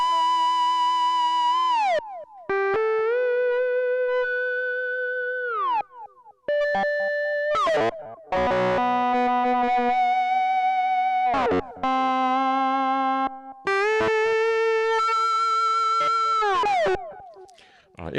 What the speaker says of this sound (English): It's called feedback guitar because if you tilt your y-axis forward, you get a feedback sound.